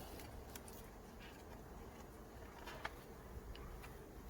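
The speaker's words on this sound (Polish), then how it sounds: "pszczoły nawet spokojne" Honeybees buzzing at an opened nucleus hive during a beekeeper's inspection, a faint steady hum with a few brief louder buzzes of individual bees passing close.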